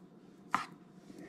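A single short knife cut on wild turkey breast, trimming the meat in a quiet setting, one crisp slice standing alone against faint background noise.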